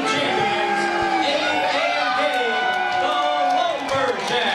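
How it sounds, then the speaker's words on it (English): Wrestling crowd cheering and whooping through a full, steady roar at a tag team championship announcement, with an announcer's voice running over the noise. "As you hear the crowd cheer"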